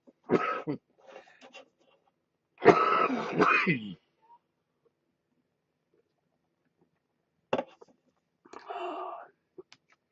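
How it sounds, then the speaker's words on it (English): A person with the flu clears their throat and coughs in a few separate bursts, with long silent pauses between them, close and fairly loud. "this cough that come along with it"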